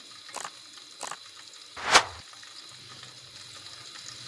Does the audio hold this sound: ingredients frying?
yes